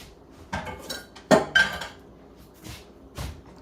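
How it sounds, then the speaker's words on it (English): A metal spoon clinks and scrapes against a nonstick pan while oatmeal is being made, with a few separate sharp contacts and short scraping strokes, close and moderately loud, with no talking. "Is KJ using a metal spoon against a nonstick pan?"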